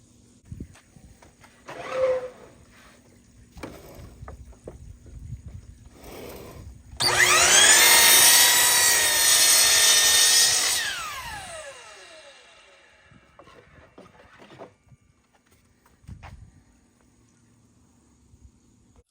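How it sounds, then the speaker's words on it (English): A power saw cuts through a 1 by 10 wood board for a farmhouse sign, a loud whining rip lasting about four seconds amid quieter workshop knocks and handling before and after. "And then we're going to go ahead and give that a cut."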